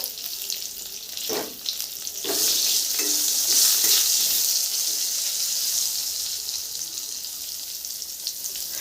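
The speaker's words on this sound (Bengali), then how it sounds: "বেগুনটাও হালকা করে 30 সেকেন্ড মতন ভেজে নিব" Eggplant pieces fry in hot oil in a pan, a loud, steady sizzle for hilsa and eggplant curry, swelling briefly around a few stirs and then settling into a continuous hiss with no talking.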